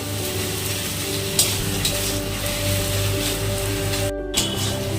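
Taro leaves (kochu shak) frying in a pan with peanuts, stirred for the last moment of vegetarian cooking without garlic: a steady close sizzle with scraping stirring strokes, no talking.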